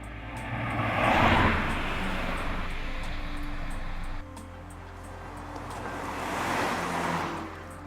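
A 2013 BMW 328i driving along back roads, its engine and road noise swelling and fading steadily throughout, with a drop in intensity midway before building again.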